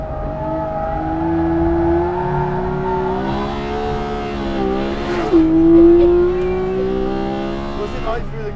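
A Porsche 911 GT3 with its PDK gearbox in Sport mode revs hard, its engine note climbing and dropping through quick downshifts, loud and close, with someone talking over it throughout.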